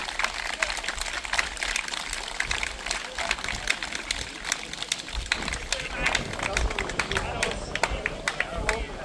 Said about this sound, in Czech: prosím, velký potlesk.